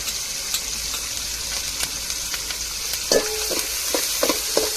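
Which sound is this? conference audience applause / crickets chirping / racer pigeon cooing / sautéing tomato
sautéing tomato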